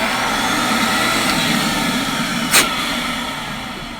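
A Beam central vacuum with a newly replaced motor runs in a steady, loud, whooshing drone that fades slightly, with one brief sharp hiss midway.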